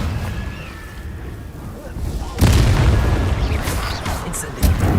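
A Confringo explosive spell blast in the Hogwarts Legacy video game lands as a sudden loud boom partway through, followed by a rumbling burst and then a second sharp hit near the end.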